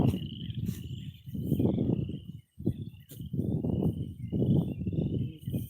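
A chorus of frogs croaks in pulsing low bursts outdoors on a farm, the rhythmic swells rising and falling over a faint high insect drone and occasional bird notes.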